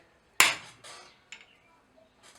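A heavier blacksmith's hammer strikes a metal rosette rivet in about four sharp, spaced blows, each a bright ringing clang that fades quickly into silence.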